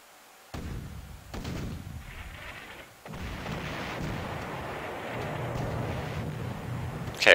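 Cannon artillery fires in a PlayStation video game: a few sharp, booming shots at the start, then a sustained rumbling, crackling din of battle noise that swells toward a final loud blast.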